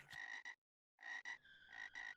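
Frogs croak in the video game Reggorf, bright repeated electronic-sounding calls in quick bursts, a clear pause in the middle, then several more croaks in a row.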